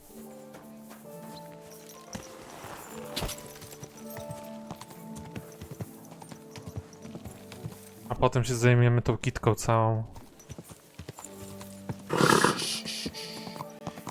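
A horse's hooves clip-clop in the medieval game Kingdom Come: Deliverance, with steady plodding steps under someone talking and a louder burst of hoofbeats and snorting partway through.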